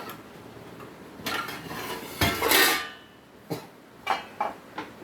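Metal pot clatter as a lid is set on a cooking pot of Garhwali green vegetable bhujji, with a loud clanging scrape in the middle and several short, sharp knocks of metal afterward, close by.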